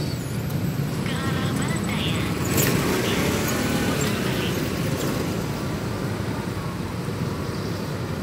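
Dense road traffic noise from a jammed street, with a steady rumble of engines and passing vehicles and a brief louder burst partway through, while someone talks over it.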